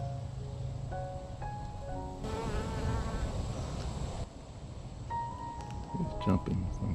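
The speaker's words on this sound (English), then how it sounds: "You want to see those bees. See, there's a bee, you see that?" Bees buzz among cucumber flowers in an allotment garden, a steady insect drone with passing nearer hums, while a person talks over it.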